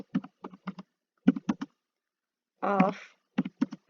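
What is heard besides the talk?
typing a chart title on a computer keyboard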